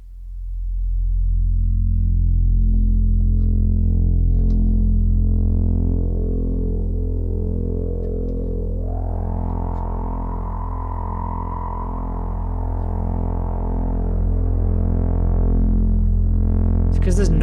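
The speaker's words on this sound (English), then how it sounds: "Because there's noise in it, it means you're getting this distorted wave." A distorted electronic waveform from an audio effects unit, a steady buzzing harmonic drone that turns harsher and noisier partway through, sustained and fairly loud with no talk over it.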